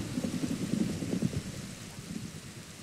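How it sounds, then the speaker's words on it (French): A Minecraft thunderstorm: steady rain with low rumbling thunder rolling underneath, fairly loud at first and easing slightly toward the end, with no voices. "Oh putain, il y a l'orage."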